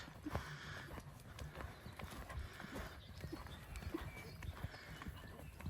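A show horse canters around an arena, its hoofbeats thudding in a steady rolling rhythm, faint and somewhat distant throughout.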